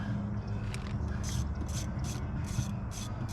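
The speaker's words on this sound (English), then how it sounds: "So we're gonna just loosen the lower bolt. We're gonna take it all the way out." A ratchet wrench loosens and backs out a lower bolt on a 7.3 diesel engine, making a rhythmic run of close, gritty clicking strokes over a constant low rumble.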